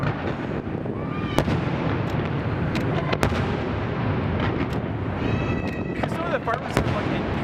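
Fireworks at a Loyalist Day display in Saint John, New Brunswick boom and crackle in repeated sharp bursts over a constant outdoor rumble, with whistling rockets and people talking in the crowd.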